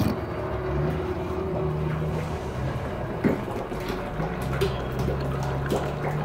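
A Harbor Freight transfer pump draws hydraulic fluid from the tank of a Putzmeister concrete line pump, a close, steady motor whir with gurgling, sloshing liquid and a few knocks.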